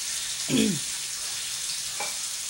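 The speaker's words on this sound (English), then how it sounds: "We just dip the bread into the butter and put it on the pan." Butter-dipped bread hits a hot pan with a brief close sizzle, and a second fainter sizzle follows. A steady background hiss runs throughout.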